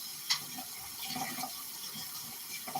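Kitchen tap running water while cooking a one-pot bean meal, a faint steady trickle with a few small splashes, no voices.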